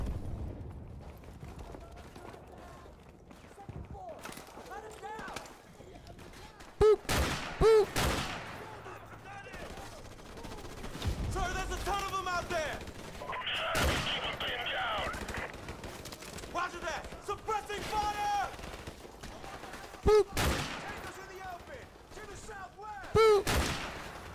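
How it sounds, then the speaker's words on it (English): Sniper rifle gunfire in the Modern Warfare Remastered video game: a handful of sharp, loud single shots spaced several seconds apart, set against quieter battle ambience and game voices. "Just tearing them apart with the sniper rifle."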